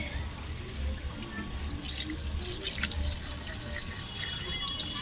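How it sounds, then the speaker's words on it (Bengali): Water overflowing from a filled water tank and falling below, a steady splashing and trickling stream with scattered drips, continuous and fairly close, with no talk over it. "ট্যাঙ্কি থেকে জল পড়ছে"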